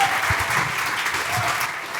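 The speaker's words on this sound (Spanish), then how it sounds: "Un fuerte aplauso para ellos" A church congregation claps together in a steady, dense burst of applause that fills the room without a break, with scattered voices mixed underneath.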